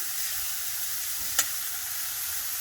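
Onion and zucchini sauté in a pan, a steady soft sizzle with one brief sharp pop partway through, close and moderately quiet, with no voices.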